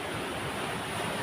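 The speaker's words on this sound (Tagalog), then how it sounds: "Kaya lang napakalakas ng alon ngayon" Loud, continuous rushing of strong ocean surf with wind buffeting the microphone, a steady broadband roar with no pauses.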